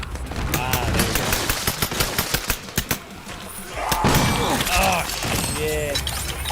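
Rapid bursts of video game gunfire crack out in a fast rhythmic string, then give way to a louder stretch with a voice talking over the game sounds.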